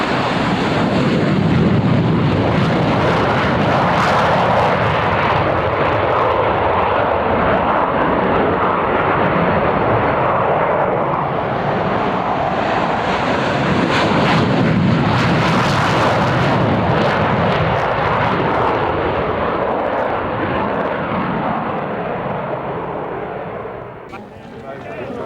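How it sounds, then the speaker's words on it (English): F-15 Eagle jets of the United States Air Force roar past in a D-Day 50th anniversary flypast, a loud, sustained rushing engine noise with heavy wind buffeting that swells and fades slowly over the whole stretch. "And F-15 Eagles from the United States Air Force."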